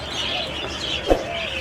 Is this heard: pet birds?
yes